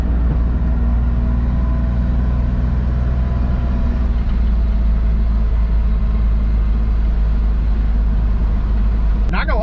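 A lifted pickup truck with a swapped 3.4 engine runs on a test drive. A loud, steady low engine drone fills the cab throughout while people talk over it.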